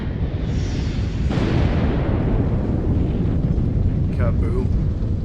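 A massive explosion goes off after a countdown in Destroy All Humans!, a loud, sustained roaring rumble with a sharp burst partway through and debris-like crackle trailing near the end.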